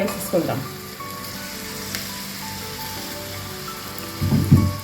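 Boiled chana dal being stirred into a masala gravy in a pan gives a steady close sizzle with soft frying crackle. Occasional scrapes of a spoon stir through it.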